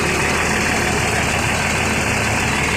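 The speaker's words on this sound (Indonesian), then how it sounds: "Ini kondisi mesinnya teman-teman" A Pelangi bus engine idles steadily and close by, an even low rumble with a faint vibrating drone and no talking.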